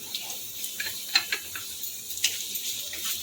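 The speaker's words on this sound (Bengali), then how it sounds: "তেলের মধ্যে প্রথমে কাঁচা লঙ্কা আর আদা রসুনটা দিয়ে দিলাম" Green chili, ginger and garlic hit a little refined oil in a kadai for a veg atta momo filling, a soft close sizzle with scattered light clicks and scrapes and no voice.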